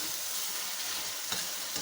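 Tomatoes soften in a hot pan with a constant close sizzle and hiss, and two quick scraping taps of stirring near the end of the short moment.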